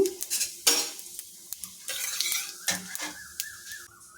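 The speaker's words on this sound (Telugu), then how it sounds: "ఇప్పుడు నేను కొద్దిగా జీలకర్ర వేసుకుంటున్నాను" Cumin seeds hit hot oil in a pan, giving a close, crackling sizzle broken by sharp metallic clinks and scrapes of a utensil against the pan, with no talking.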